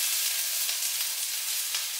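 Extra virgin olive oil sizzles in a hot pan, a bright, steady hiss that holds even and continuous without pause.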